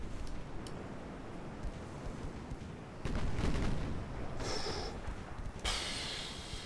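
Naval guns fire at a ship during a dreadnought battle in a game, with a steady low rumble broken by two heavy booming blasts, the second followed by a hissing roar.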